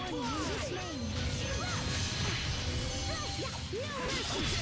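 Combat in the video game Tales of Graces f as enemies pound the player character, with repeated smashing hits, whooshes and clashes layered over steady battle music throughout.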